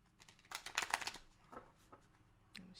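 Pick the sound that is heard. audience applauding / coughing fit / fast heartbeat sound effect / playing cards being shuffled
playing cards being shuffled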